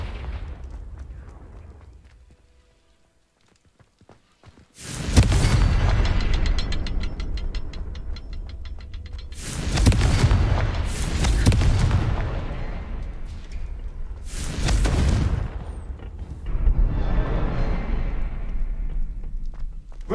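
Confringo blasting-spell explosions in Hogwarts Legacy: after a quiet start, a series of heavy, loud booms erupts, about four big blasts with rumbling tails over a continuous low roar.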